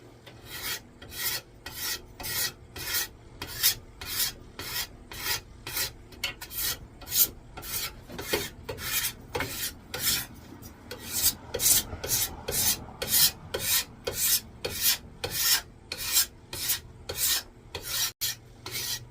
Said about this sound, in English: we're going to use a card scraper to take all this varnish from the factory off, so we can put a nice oiled linseed oil on